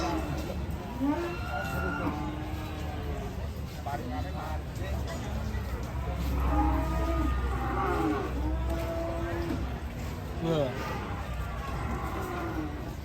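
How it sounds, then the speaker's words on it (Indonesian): A giant horned cow, a rare breed, moos in several long, deep calls close by among other cattle, with people talking around the animals throughout. "Sapi raksasa bertanduk, serem"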